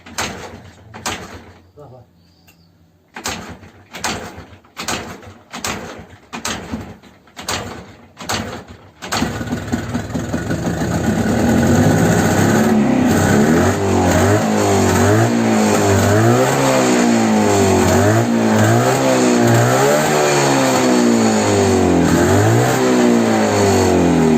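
An old Jawa motorcycle engine that had sat unused for seven years is kicked over several times with sputtering attempts, then catches and runs loudly, revving up and down in repeated surges, close by and drowning out nearby voices.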